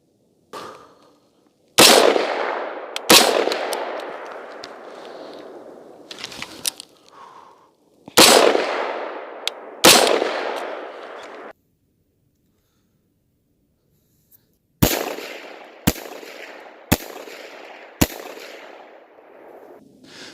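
Rifle gunshots fired during iron sights training drills outdoors, several sharp loud cracks spaced apart at first, then a quick run of four shots after a pause, each followed by a short echoing tail.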